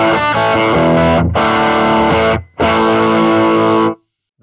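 Overdriven electric guitar boosted by an OD808 pedal, loud crunchy chords played in two strummed bursts with a brief gap between them, ringing out before a sudden stop.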